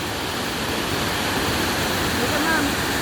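A waterfall roars as a dense, steady rush of broadband water noise, close and loud and unchanging throughout, with no clear voices over it.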